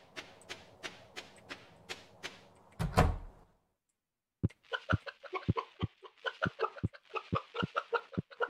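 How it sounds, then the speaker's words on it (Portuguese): Chickens cluck in Stardew Valley as a quick, evenly spaced run of short game clucks. A heavier thud follows, then a brief silence, then a faster, denser string of clucking. "Ah, é porque eu esqueci que as galinhas estão aqui embaixo."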